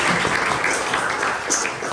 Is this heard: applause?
yes